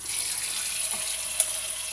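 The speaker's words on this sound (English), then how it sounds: "Turn the water on." Water runs steadily from a kitchen tap into a sink with a bright hiss, filling an ice bath for boiled eggs, and a small clink sounds partway through.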